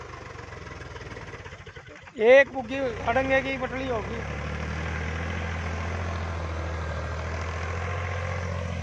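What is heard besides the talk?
Powertrac 50 tractor engine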